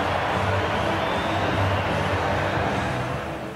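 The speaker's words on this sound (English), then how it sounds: "to give the noisy home crowd something to cheer about" A noisy home crowd roars at a Scotland v England rugby match, a broad, sustained wash of cheering that eases slightly at the end.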